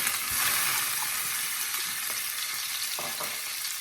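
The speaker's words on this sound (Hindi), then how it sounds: "ये ऑयल गर्म हो चुका है, मैं इसमें सबसे पहले सूहा डाल रही हूँ" Spices dropped into hot oil for prawn pulao sizzle loudly and steadily, close up, with a few soft stirring knocks and no talking.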